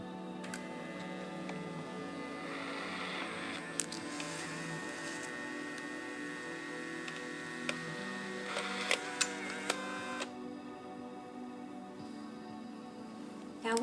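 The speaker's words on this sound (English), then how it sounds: "And now it should be printing." A small photo printer running through a print job, giving a steady mechanical whir and hum broken by scattered light clicks and ticks. The sound is moderately close and goes on without any talking.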